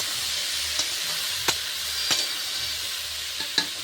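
Chana dal frying in a pan sizzles in a soft, steady hiss, broken by a few sharp clicks of stirring spaced out across the short stretch, close by and fairly quiet, with no talking.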